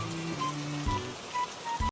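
Cartoon rain patters softly and evenly under a light melodic background, with a few gentle tonal notes rising over the drizzle.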